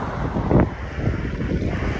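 Wind blows across a beach where kites are out at low tide, a loud rumbling buffet on the microphone with one stronger gust near the start.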